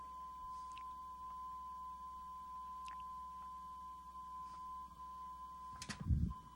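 A steady, thin electronic test tone from an 8-track tape hums at a constant pitch, faint with light hiss and clicks, ending in a short low rumble as the tape changes tracks.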